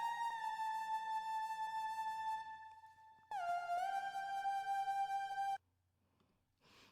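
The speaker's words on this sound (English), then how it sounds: "Black Hole has this really, really nice hypnotic lead that I love." A hypnotic synth lead from a sample called Black Hole plays alone: a sustained, bright tone holds steady, cuts off briefly, then returns with a gliding drop in pitch before stopping abruptly into near silence.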